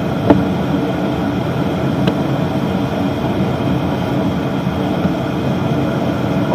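Honda 750 Nighthawk motorcycle exhaust while riding, a steady loud broadband engine roar with constant road and wind rush, a couple of faint clicks near the start and no speech.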